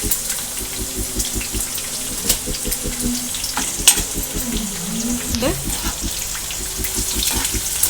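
Dry red chillies crackle and sizzle in hot oil for a Telugu-style raw mango pulihora tempering, a steady broadband frying hiss with occasional sharper pops, while a person talks over it at moderate level.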